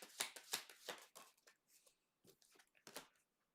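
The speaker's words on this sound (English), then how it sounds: "Why am I shuffling backwards?" Tarot cards are shuffled close up in a quiet room, a series of quick, crisp riffling and slapping bursts with short pauses between them, fairly faint.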